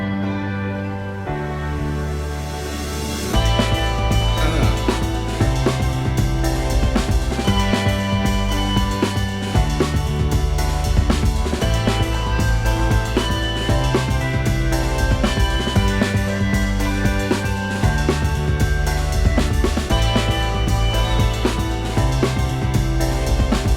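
Song excerpt driven by a prominent drum track, with steady punchy beats under a dense full-band mix that runs loud and continuous after a quieter opening couple of seconds, with no talking.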